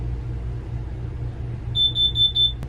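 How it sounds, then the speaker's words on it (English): A rapid series of high-pitched electronic beeps from an alarm sounds over a steady low rumble, starting partway through. "hear that alarm?"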